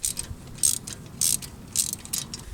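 A ratcheting wrench tightening the front brake caliper slide pin bolts on a 2014 Mini Cooper, quick bursts of close metallic clicking in an irregular rhythm, with brief pauses between strokes.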